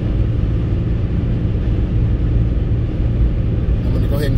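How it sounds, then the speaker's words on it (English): Steady low hum of a car's motor and tires on a highway at night, a continuous droning rumble heard from inside the cabin, with a voice talking over it. "The humming of the motor and the tires, this is called highway hypnosis"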